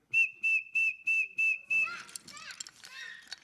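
An alligator-call novelty whistle blows six evenly spaced, steady shrill toots, then gives way to a jumble of warbling, chirping whistle sounds.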